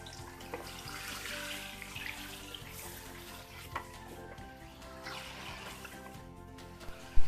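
About 600 grams of chicken frying in a cup of hot oil in a karahi, giving off a steady, dense sizzle and crackle up close, with no talking, ending on a brief louder clatter.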